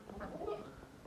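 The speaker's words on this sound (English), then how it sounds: "Even goose." A goose at a livestock farm gives a brief nasal honk, close and moderately loud amid faint outdoor background.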